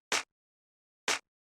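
Punchy clap sample layer hit twice roughly a second apart, each a tight, snappy burst of noise that dies away fast, heard close and on its own.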